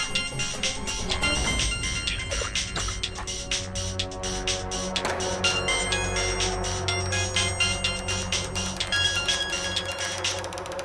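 A phone ringtone plays over and over, an electronic melodic ring repeating steadily and fairly loud, with no one speaking.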